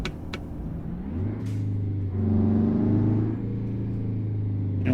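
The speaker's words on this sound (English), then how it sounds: "I'm gonna turn the volume up on this engine." Truck engine in American Truck Simulator idles and revs with a steady low drone, rising briefly in pitch and loudness before settling back to a constant hum, with a short hiss near the start.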